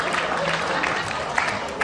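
An audience claps along with a live comedy roast, a dense, steady patter of many hands that carries on through the whole stretch at moderate loudness and is mixed with crowd noise.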